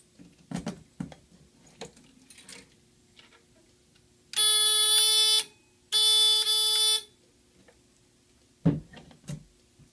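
A standard fire alarm sounding during a fire system test, two loud, sustained harsh electronic tones about a second apart, with clicks and handling noises around them.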